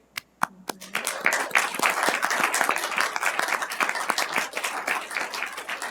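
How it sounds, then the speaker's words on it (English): An audience at a city human relations commission awards ceremony applauds its recipients: a few scattered early claps quickly swell into full, steady applause that holds at moderate loudness. "We applaud you."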